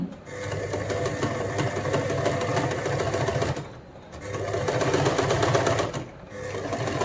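A sewing machine runs close by, stitching a picot edge on a saree in two steady, loud bursts of rapid rattling, separated by a short pause, with no talking.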